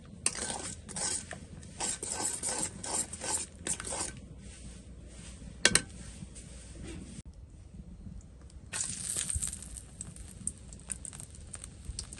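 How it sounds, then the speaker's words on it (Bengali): Banana flower being stirred and sautéed with spices in a pan, the spatula clattering and scraping against the metal in bursts with quieter pauses between, close and alone. "এটাকে ভালো করে একটু কষিয়ে নেব যতক্ষণ মশলা থেকে তেলটা না ছাড়তেছে"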